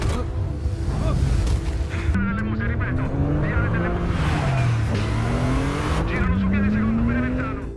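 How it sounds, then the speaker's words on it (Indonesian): A jeep in an action film chase speeds away, engine revving and rising in pitch over several surges, with mixed soundtrack noise and a voice speaking over it. "Namun sayangnya jeep itu berusaha kabur dengan sangat cepat."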